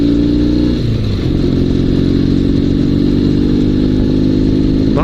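Dnepr sidecar motorcycle engine running while riding, after earlier losing power on one cylinder: a loud, continuous, close engine drone with a brief pitch shift near the start, then a steady run.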